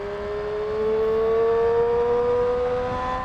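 A car engine hums under steady load as it accelerates smoothly and linearly, a continuous close drone whose pitch creeps slightly upward over a few seconds, with no voices.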